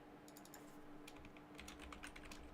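Keys clatter on a computer keyboard during a coding session, quick uneven bursts of typing close by over a steady low hum, with no one talking.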